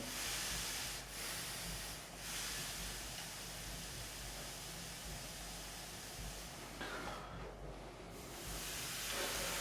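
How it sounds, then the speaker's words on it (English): Steam hisses steadily into a guitar neck to ease a twist, a broad continuous rushing hiss that dips briefly a couple of times and swells again toward the end, close and fairly loud. "So I'm just going to crack some steam in there and I'm going to keep doing it."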